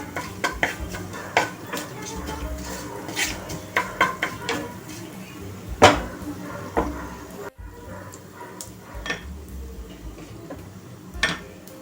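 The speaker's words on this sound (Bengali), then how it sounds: "এবার আঁচটা একটু লো করে একটু নাড়তে হবে" Kasuri methi being stirred in a pan over low heat, with a run of light spoon scrapes and clinks against the metal, close and fairly quiet, with one sharper knock midway.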